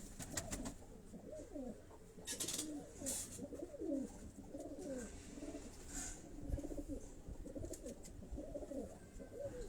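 Pigeons cooing in a loft, repeated soft rolling coos from several birds overlapping at moderate distance, with scattered rustles and flutters among them.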